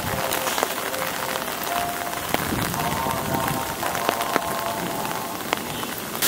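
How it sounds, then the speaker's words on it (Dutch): Steady rain falls in Hong Kong with dense, close hiss of drops spattering on surfaces, accompanied by scattered sharper drips and a faint thread of music in the background. "En wat een perfectie met die regen."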